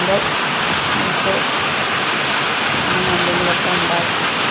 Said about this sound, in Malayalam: മഴ അത്യാവശ്യം നന്നായിട്ടൊന്ന് പെയ്യുന്നുണ്ട്